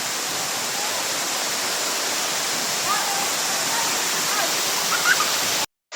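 Panas Falls, a waterfall in Davao del Norte, roars as a dense, steady rush of falling water, close and loud throughout, cutting off abruptly at the end.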